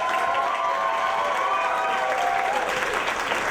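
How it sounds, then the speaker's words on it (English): A live-music crowd at Eddie's Attic applauds and cheers as the band and singer take the stage, steady loud clapping with whoops and shouts throughout. "please give her a round of applause"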